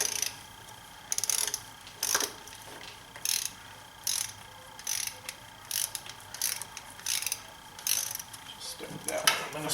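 A torque wrench ratcheting on a BMW six-cylinder valve cover bolt, a dozen or so short sharp clicking bursts in an uneven rhythm, close and crisp.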